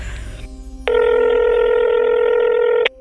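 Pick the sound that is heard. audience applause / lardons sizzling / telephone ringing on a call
telephone ringing on a call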